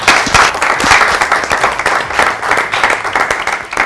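Studio guests clap together in applause for a cricket team that qualified for the T20 World Cup semifinal, a loud, dense, slightly pulsing burst of clapping with no talk.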